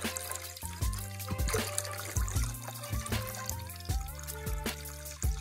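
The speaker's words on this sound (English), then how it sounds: "pour some bleach" Bleach is poured into a container for bleaching pine cones, a soft, close, quiet trickle and splash of liquid with uneven gurgles and no talking.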